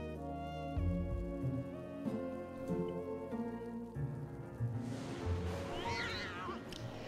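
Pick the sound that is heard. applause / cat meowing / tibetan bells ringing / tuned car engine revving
cat meowing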